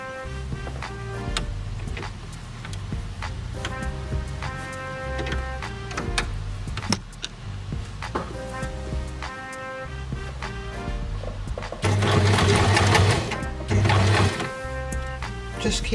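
Sewing machine stitching a seam on a bag, a steady mechanical run of clicking needle strokes, louder and busier in two short bursts near the end.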